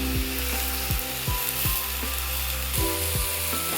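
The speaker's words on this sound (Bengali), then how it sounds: "কড়াইয়ের মধ্যে দিয়ে দেওয়া হলো মোচাটা।" Boiled banana flower fries in spice paste in a kadai, a loud continuous sizzle broken by repeated clanking spatula strikes as it is stirred, with no voices.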